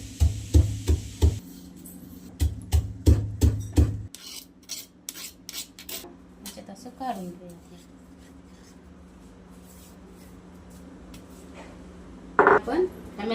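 Peanuts are pounded coarsely by hand in a few rounds of quick, dull thumping strokes, followed by grinding and scraping and a final burst of pounding near the end.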